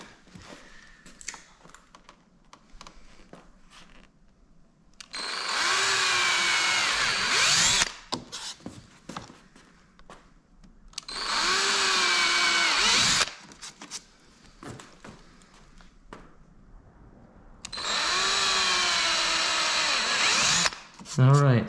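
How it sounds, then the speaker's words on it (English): A power drill bores pilot holes into a C7 Corvette while fitting a Stage 2 or Stage 3 conversion kit, running in three sustained loud bursts of a few seconds each with quieter handling noise between them. "All right, so now we got the pilot holes done."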